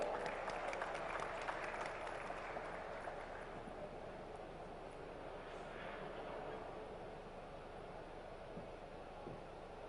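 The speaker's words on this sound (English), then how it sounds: "Can we have a big round of applause for her as well?" An audience at a finance panel event in India gives a round of applause, soft and distant clapping that gradually thins out into room noise.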